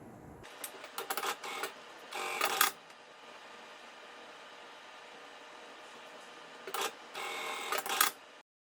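A sewing machine stitches a drawstring bag with a 1 cm seam allowance, running in two separate bursts of quick, rattling stitching, each a second or two long, with a quiet gap between them.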